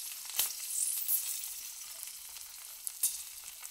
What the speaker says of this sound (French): on va les préparer en les faisant frire